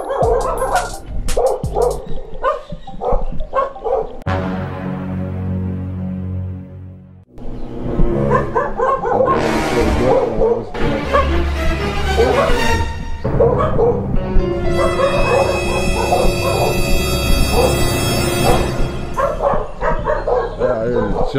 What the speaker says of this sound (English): We got the dogs barking at us.